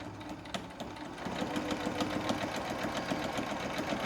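Sewing machine with a presser foot stitching in a zipper, a rapid mechanical chatter of needle strokes that starts after a pause and runs steadily at moderate volume, with a few clicks, no voices.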